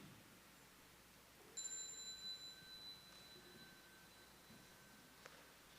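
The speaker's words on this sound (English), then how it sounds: "When we hear the sound of the small bell, please stand up to greet Sister Đẳng Nghiêm." A small bell is struck once in a quiet meditation hall before a Dharma talk, a clear ringing tone that rises suddenly and then fades slowly, with a faint second tap near the end.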